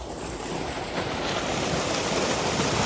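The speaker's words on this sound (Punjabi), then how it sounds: "ਦੋ ਮੋਟਰਾਂ ਚਲਾਤੀਆਂ ਦੂਸਰੀ ਆ ਵੀ ਚੱਲਦੀ ਆ ਦੇਖੋ" Two electric water pump motors run in a maize field for irrigation, and their outflow makes a continuous, rushing, surf-like roar that builds slightly and stays loud.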